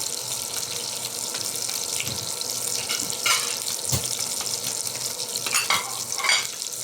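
Fish for the Ilocano dish dininding sizzles steadily in hot oil in a pan, with occasional scraping and clinks from stirring, and no talking.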